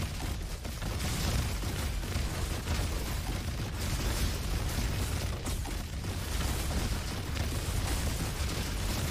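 Projectile explosions in the shooter game Roboquest form a dense, continuous roar of overlapping blasts and bursts, loud and unbroken throughout with no voices.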